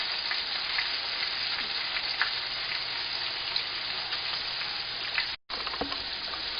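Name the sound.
ruffed grouse pieces frying in a pan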